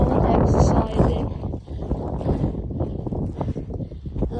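Strong wind buffets the microphone on the Binsey Fell hilltop in the Lake District, a loud continuous roaring rumble with gusty swells throughout.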